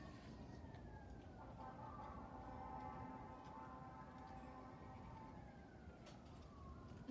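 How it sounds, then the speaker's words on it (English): Fire engine sirens wail from a distance, rising and falling tones drifting faintly over a steady low rumble of background noise, with no talk over them. "Is that the fire engines? That's the fire engines."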